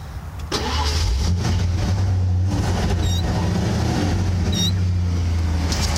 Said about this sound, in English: the motor runs really well with no odd noises, no strange things going on